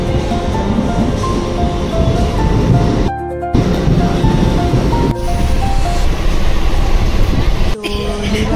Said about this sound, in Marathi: आत्ता ट्रेन आली